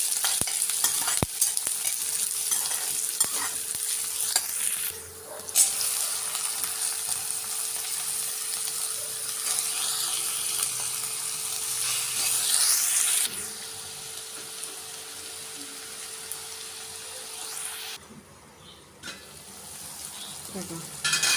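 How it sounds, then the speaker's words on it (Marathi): Garlic and onion fry in oil with cumin and mustard seeds, browning for a bell pepper dish. A loud, continuous sizzle carries on with scraping and stirring strokes and brief dips in level. "लसूण आणि हा कांदा. कांद्याला छान ब्राऊन द्यायचं."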